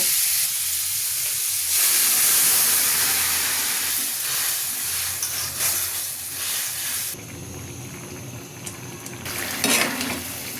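Water poured into a pan of frying mixed vegetables with green chili sets off a loud burst of sizzling and hissing steam. It settles into a softer bubbling, broken by occasional clinks and stirring of the pan.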